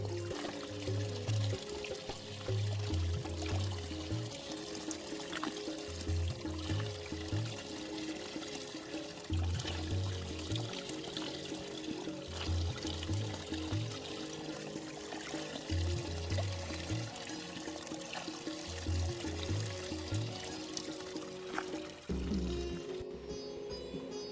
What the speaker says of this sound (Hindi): यहाँ पे इस तरीके के छोटे छोटे स्प्रिंग्स हैं जिनसे पानी पी सकते हैं हम लोग।